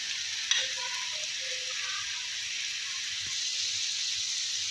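Yogurt goes into chicken karahi cooking in a pan over low to medium flame, and a steady close sizzle and frying hiss carries on throughout with a faint stirring clink.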